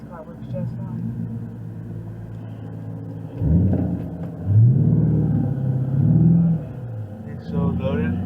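A car engine revs in a few rising and falling surges over a steady low rumble, loud and close, with people talking around it.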